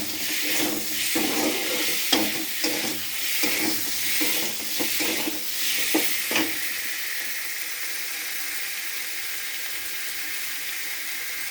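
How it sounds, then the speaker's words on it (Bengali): Turmeric powder stirred into a sizzling curry in a pan for a potato-onion fish curry, a steady broadband frying hiss with scraping strokes through the first six seconds, then a softer even sizzle alone. "হলুদ গুঁড়োটা দিয়ে একটু নাড়াচাড়া করে নেব।"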